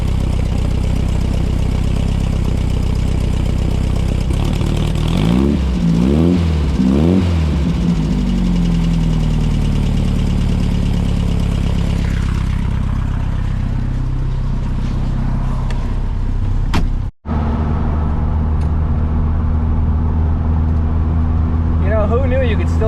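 A classic VW Beetle engine runs steadily after warming up, a continuous low mechanical drone with a brief revving swell partway through, while a person talks over it.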